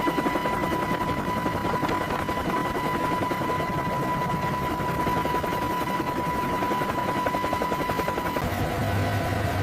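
A Boeing AH-64 Apache helicopter on landing approach, its rotor giving a steady, loud, continuous thudding drone with a faint steady whine throughout, no talk heard.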